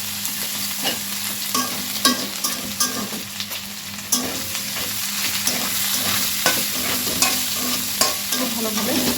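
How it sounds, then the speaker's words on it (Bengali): Spice paste of ground cumin, coriander and chili powder stir-fried in a pan for a pabda fish and cauliflower curry, a loud, continuous sizzle with regular sharp scrapes of the spatula and no voices. "এই যে মশলাটা এখন খুব ভালোভাবে কষিয়ে নেব।"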